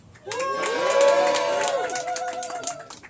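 A crowd cheers and shouts at a political endorsement rally for young Republicans, a loud sustained roar with whoops and voices rising together, swelling briefly before easing off.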